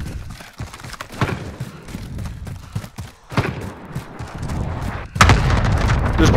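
Gunfire and sniper shots in a team multiplayer video game crack and boom repeatedly, with a heavy blast near the end, all loud and close amid a busy game soundscape.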